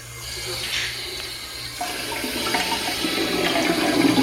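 A Toto Washlet bidet toilet is switched on and water starts running, a faint hiss growing into a steady, louder rushing flow close by with no talking.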